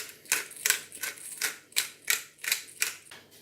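Black pepper ground over a carrot and red cabbage slaw, a run of about eight crisp, evenly spaced grinding bursts close to the mic with nothing else heard.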